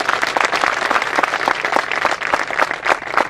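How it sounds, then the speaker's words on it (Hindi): A crowd at the opening ceremony of a biocoal factory applauds vigorously, thick continuous clapping from many hands filling the space at an even, loud level throughout. "तो मनोज पाटीदार जी के लिए फिर से एक बार जोरदार तालियां"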